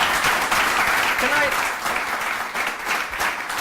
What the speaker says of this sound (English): A good round of applause. It's still going.